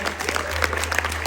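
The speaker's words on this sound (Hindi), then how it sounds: "सरोज मैम है हमारे साथ, एक बार जोरदार तालियां।" Steady applause from a crowd at a fashion show ramp walk featuring visually impaired models, a dense wash of clapping at moderate volume with a low hum underneath.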